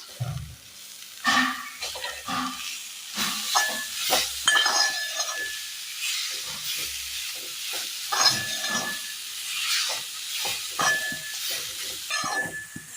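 Fried chicken and crushed jackfruit are stirred into masala in a hot pan for a Kerala snack, with a soft ongoing sizzle and irregular scraping, clattering strokes of the spoon up close.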